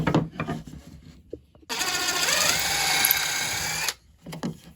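Power drill cutting pilot holes in wood for a homemade display or plant stand, a loud close whine rising in pitch for about two seconds, with brief faint bumps and handling sounds before and after.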